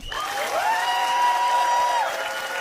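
An audience claps steadily throughout, a full even wash of applause, while a sustained bright tone hangs over it for most of its length.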